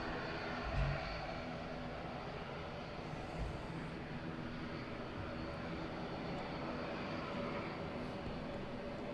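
Airliner on departure from Southend Airport, bound for Amsterdam, rumbles steadily at a moderate distance as a broad, continuous engine roar with no breaks, with no one speaking over it.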